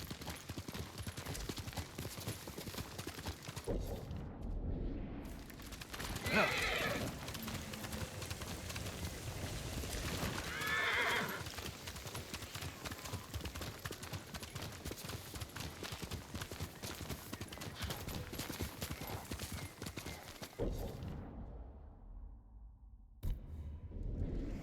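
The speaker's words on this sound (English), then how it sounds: "Horse!" Hooves clip-clop in a steady galloping rhythm from a horse in the samurai game Ghost of Tsushima, ridden across Iki Island, with a dense wash of battle and ambient game noise, including bursts that could be clashes, throughout.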